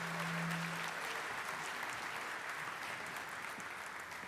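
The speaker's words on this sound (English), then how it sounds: "Let's give them another round of applause." An audience at the Namibia International Energy Conference 2024 gives a choir another round of applause: sustained, even clapping from a large crowd in a hall, with a brief low tone at the start, fading slightly toward the end.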